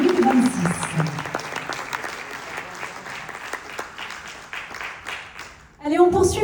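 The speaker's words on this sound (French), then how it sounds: "On peut encore l'applaudir." A banquet crowd applauds the chef named Chef Vanille Verte of the Year at the Guide Kaspro 2026 awards ceremony, with sustained clapping, some close sharp claps, and a voice with music cutting in at the end.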